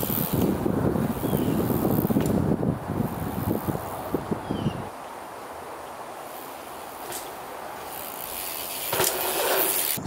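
Wind gusts buffet the microphone at an outdoor bike jump park, loud and rumbling for the first few seconds, then dropping to a low steady hiss before a brief gust returns near the end.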